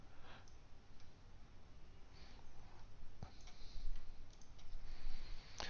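Sparse computer mouse clicks sound during a presentation, faint and irregular against a quiet hiss, with a few sharper taps spaced a second or more apart.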